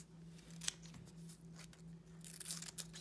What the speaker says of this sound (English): I'm going to cut them out into strips.